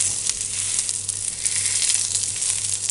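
Prawn tikka sizzling in a little oil on a flat tawa pan as the pieces are pressed down, a steady close crackling hiss throughout with no voices.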